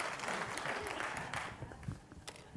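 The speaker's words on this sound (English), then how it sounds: "Next round of applause." Audience at a science lecture event applauds, a short burst of clapping that thins out into scattered claps.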